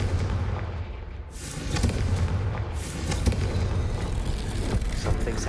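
A Confringo spell blast in the Hogwarts Legacy video game rolls out as a deep, rumbling explosion with sharp popping cracks over a low, steady game ambience, moderately loud.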